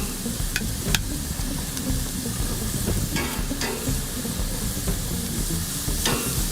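Olive-oiled lemon halves searing flat side down on a hot grill with open flame, giving a continuous close sizzle and hiss dotted with scattered sharp crackles and pops, no talking.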